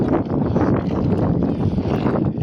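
Big waves breaking on a sandy beach, a steady loud roar of surf and rushing water with wind buffeting the microphone throughout, no voices present.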